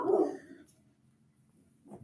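A dog gives a short, close bark at the start, then silence follows until another sharp yip-like sound rises at the very end.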